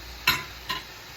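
Rice goes into a pan for a chicken, rice and broccoli casserole, heard as two brief scraping, sizzling rustles close by, half a second apart.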